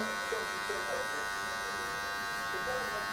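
Electric hair clippers buzz steadily at close range while cutting a burst fade on the back of the head, a constant whine with a person talking over it.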